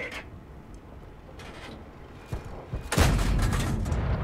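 Gunfire in a video game, a couple of sharp isolated shots followed by a denser, louder burst of fire that keeps going, with no voices over it.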